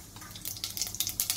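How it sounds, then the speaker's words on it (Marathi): Mustard seeds hitting hot oil in a pan for a spicy dry mutton dish, giving a bright crackling spatter that comes in short bursts and builds toward the end, close and fairly quiet. "तेल छान गरम झालेलं आहे। थोडीशी मोहरी,"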